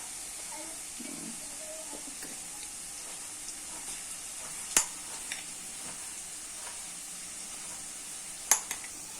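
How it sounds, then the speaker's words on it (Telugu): Onions fry in a pan with ginger garlic paste, giving a continuous soft hiss and sizzle with a few sharp clicks of stirring, fairly quiet and close. "ఉల్లిపాయలు జస్ట్ ఫ్రై అయిన తర్వాత మనం అల్లం వెల్లుల్లి పేస్ట్ వేసుకోవాలి."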